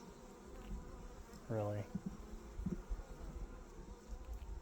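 Bees buzz faintly around a hive, a low steady insect drone with one brief louder buzz passing close, while a person says a word.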